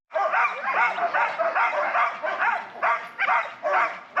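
A team of Iditarod sled dogs barks and yips continuously and excitedly, close by, in a dense overlapping chorus with brief whimpers mixed in.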